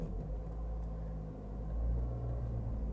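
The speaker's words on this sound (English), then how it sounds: "I'm going to slowly release the clutch while adding some gas." A manual car's engine rumbles low and steady as the clutch is let out slowly with gas, swelling a little near the end, heard alone without talk.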